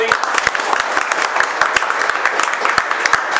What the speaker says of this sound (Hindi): एक बार मिलन सर के जोरदार ताली दे दो भाई।